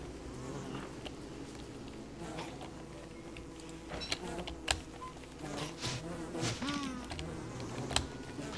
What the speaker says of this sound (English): Hope that it starts killing the killer bees.